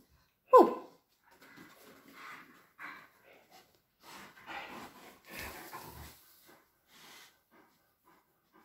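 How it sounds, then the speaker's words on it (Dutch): Irish wolfhound whines and groans during nail trimming, starting with one sharp loud cry followed by softer snorting, breathy moans and whimpers, close by with no talk. "Serieus, sta je er nou zo te janken daar? Oh, te kreunen."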